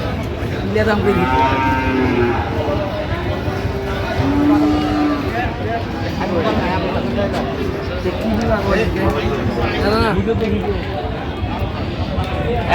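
Cattle, including Sahiwal bulls, moo loudly nearby at a busy livestock market in Dinajpur as people talk over the lowing, with a general crowd hubbub behind.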